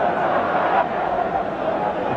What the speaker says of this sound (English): Arsenal crowd reminding us of the score